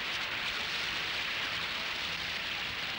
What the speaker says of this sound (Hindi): ये तो गाड़ी में ही बारिश हो गई।